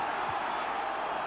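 A football crowd at Roker Park during a Sunderland v Nottingham Forest match gives off a sustained, broad roar, steady and fairly loud throughout.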